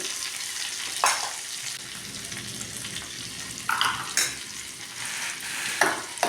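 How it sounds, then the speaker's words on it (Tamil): Tomato being sautéed in a pan with a steady soft sizzle, punctuated by several sharp scraping stirs of the spoon at irregular intervals, close and alone without voices. "எல்லாமே கிளறி விட்டுக்கலாம் நல்லா வதங்கட்டும்"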